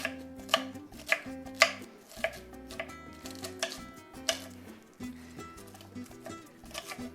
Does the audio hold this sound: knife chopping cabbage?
yes